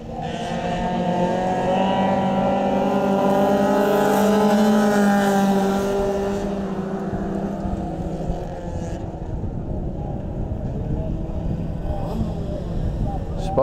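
Four-cylinder sedans race at Cullen Bullen speedway, their engines roaring loudly with rising, droning pitch as the pack goes by, then fading into the distance and leaving softer, more distant engine noise.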